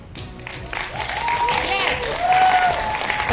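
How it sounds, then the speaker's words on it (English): Audience applause at the Miss Trans Global 2025 pageant grand final, a dense steady wash of clapping with a voice speaking over it. "Round of applause for Malaysia, please"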